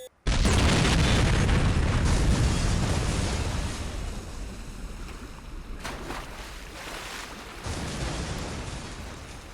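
A massive bomb detonates in Saints Row, opening with a sudden close, deafening blast that rolls into a long, thunderous rumble and slowly decays, with a second swell of debris noise near the end.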